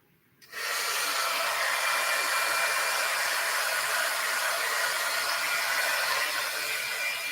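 A hair dryer switches on to dry a junk journal page and blows with a steady, close, hissing whoosh that holds constant for several seconds with no talk.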